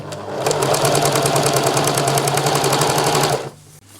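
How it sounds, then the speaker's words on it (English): A sewing machine runs a long basting stitch along the presser foot on a sun dress, a loud, rapid, evenly pulsing rattle held steadily for about three seconds before cutting off. "I line it up with a presser foot, I make my stitch really big, and off I go"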